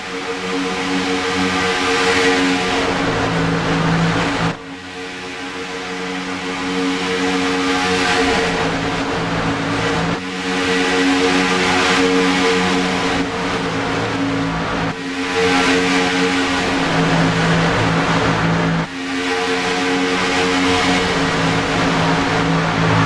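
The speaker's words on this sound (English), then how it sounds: "Want to hear these engines roar out here tonight on lap 19." Race car engines roar at Talladega on lap 19 of a night race, a loud, sustained droning blare that surges and dips every few seconds as cars sweep past.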